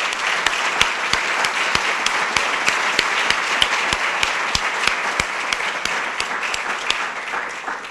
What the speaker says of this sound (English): So I'd like to have a round of applause for Elna,